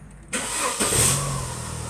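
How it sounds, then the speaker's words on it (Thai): Car engine starting after a moment of quiet: a short cranking burst, then the engine catches and settles into a steady rumbling idle nearby. "เดี๋ยวเราก็จะลองทำการติดเครื่องดูนะครับ"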